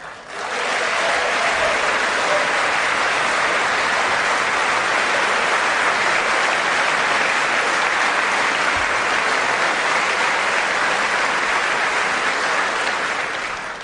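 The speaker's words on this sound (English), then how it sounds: "I played that applause line, and it did go a long time" Sustained, thunderous applause fills a large hall during a State of the Union address, a dense roar of clapping that holds at a steady level for over ten seconds before easing slightly at the end.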